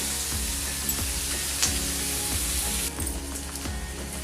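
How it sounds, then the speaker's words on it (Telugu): Onions fry in a pan with a steady, close sizzle and a few soft scraping stirs, with no talk. "ఇప్పుడు వీటిని ఒక 5 నిమిషాల పాటు ఉల్లిపాయలు మగ్గేంత వరకు ఈ విధంగా ఫ్రై చేసుకోవాలి."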